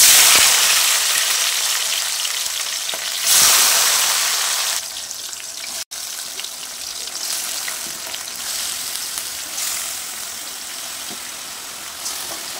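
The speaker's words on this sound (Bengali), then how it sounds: "এখন আমি এখানে লিচুগুলো দিয়ে দিচ্ছি তেলের ভিতর।" Lychees sizzling loudly in hot oil in a pan for a pickle, a steady dense crackle with a brief surge and a short gap midway, then continuing frying with occasional stirring scrapes.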